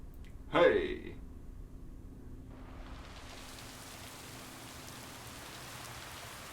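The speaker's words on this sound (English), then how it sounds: "I hear rain." Rain falling in the video game Lake: after a brief louder sound near the start, a soft, even hiss of rainfall sets in and continues steadily at low volume.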